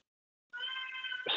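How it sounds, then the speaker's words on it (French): A cat meows behind a closed door, one drawn-out, tonal call that begins after a short silence and rises at the end, fairly clear and close. "Non, c'est un chat."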